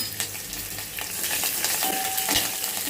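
Green chillies and curry leaves hit hot oil with cumin and mustard seeds, giving a loud, close sizzle with busy spattering and popping, stirred in a pan.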